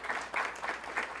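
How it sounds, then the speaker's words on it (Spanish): Faint, distant applause rises briefly from an audience honouring a teacher at an award and closing ceremony of a scientific meeting of teacher researchers. "Aplauso nuevamente para el maestro"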